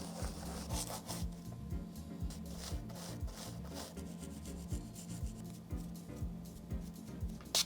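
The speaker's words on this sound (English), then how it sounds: "grabbed some old toothbrushes, and got to work scrubbing" Old toothbrushes scrubbing parts of a hundred-year-old Singer 99K sewing machine misted with diluted cleaner, producing quiet, close, rhythmic back-and-forth bristle strokes that repeat steadily throughout.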